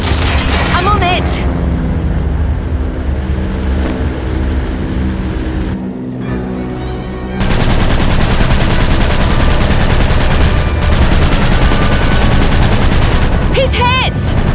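WW2 aircraft machine guns firing in the video game Aviators, dense loud bursts of rapid gunfire over engine roar, with voices talking in between.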